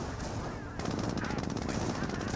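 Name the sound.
gunfire in the video game Company of Heroes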